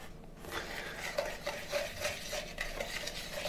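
A utensil stirring lemon juice into sifted powdered sugar to make a paste-like glaze for a lemon cake, heard as soft, repeated scraping strokes at an even rhythm, close and fairly quiet.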